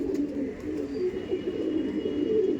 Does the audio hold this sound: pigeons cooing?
yes